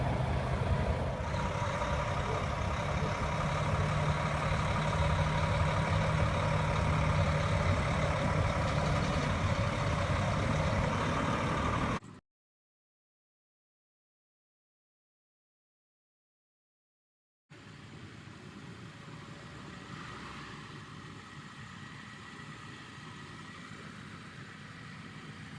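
A semi truck idles while backing up to line up with a trailer and dolly for a doubles hookup: a steady, low diesel rumble that cuts out to silence for several seconds, then resumes a little quieter.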